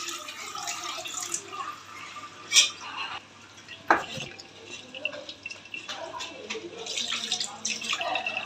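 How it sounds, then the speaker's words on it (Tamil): Homemade paneer in a cloth being rinsed in a cup of water, with soft splashing, sloshing and dripping at close range, a couple of sharper clinks and swishes along the way, and no talk. "ஒரு கப்பு தண்ணியில் இது நல்லா அலசிக்கணும்."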